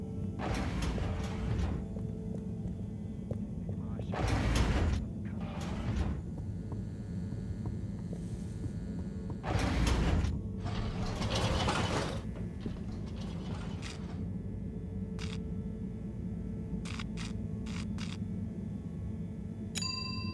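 An elevator in the video game Harold Halibut travels with a steady mechanical hum, broken by several clanking, ratcheting bursts and a few bright dings near the end.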